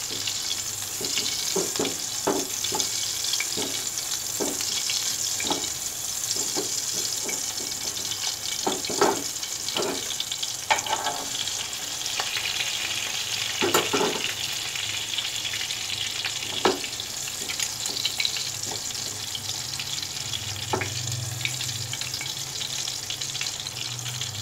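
Chapli kabab fries in a pan, a constant hiss of hot oil broken by frequent crackles and pops, steady and fairly close, with no talking.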